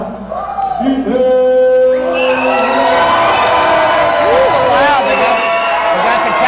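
A packed arena crowd at a college boxing match, Cal Berkeley against USC, roars and cheers loudly, with rising whoops and shouted voices cutting through a sustained wall of noise.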